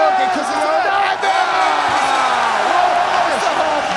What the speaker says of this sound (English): That's the crowd on their feet.